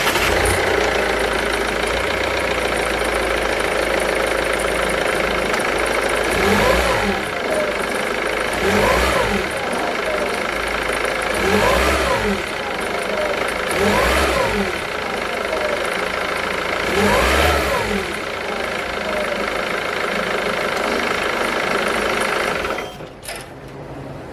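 A Jaguar car engine, fitted with a turbo actuator, runs steadily close by and is revved several times in a row, each rev a brief rising surge over the idle, with no talking.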